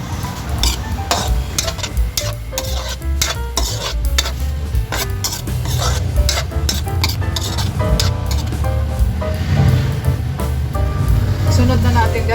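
Fish and vegetables for pinakbet sizzle in a pan while a utensil stirs and scrapes against the metal, clinking steadily and loudly up close as a voice talks over the cooking.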